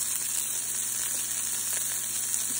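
Onions frying in a pan for an okra bean meal make a dense, even hiss and sizzle, loud and close and unbroken for a couple of seconds.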